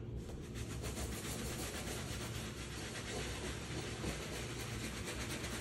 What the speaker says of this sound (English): what we're going to do is scrub away all of this dirt